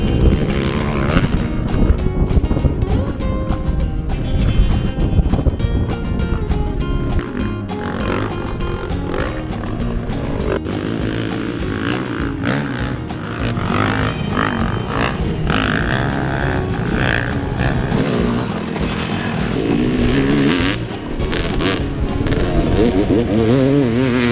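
Enduro motorcycles revving hard as they attempt a steep, near-impossible hill at an off-road race in Wales, a loud continuous roar of engines with rising and falling throttle bursts, close by.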